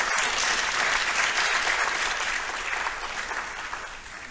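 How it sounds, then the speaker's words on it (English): Sustained audience applause for election candidates at a party results event, loud and dense at first, then gradually thinning and fading toward the end. "So we'll give them a round of applause, please."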